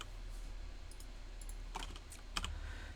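Computer keyboard keys tapped while writing Nix code, a few scattered soft clicks and short bursts of keystrokes over a steady low hum, fairly faint.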